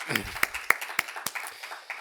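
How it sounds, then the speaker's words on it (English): A small audience claps for presenters after national updates at a conference session, a few sparse, distinct handclaps spaced out rather than a full ovation, fairly quiet with a faint voice at the start. "let's give a round of applause to all the presenters here today for their updates"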